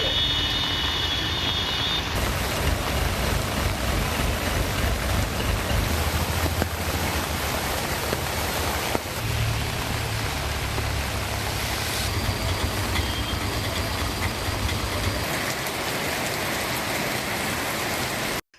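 Rain falling steadily in the Ooty and Gudalur areas of the Nilgiris district, a loud, constant hiss of downpour on surfaces filling the whole stretch without any voices.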